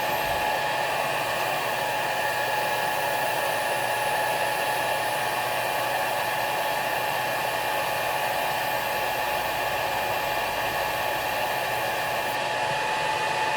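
A Mr Carve M1 Pro DPSS laser engraver runs a single engraving pass, giving a steady, continuous fan-like whir with high-pitched tonal whines held evenly throughout, close by and with no talking.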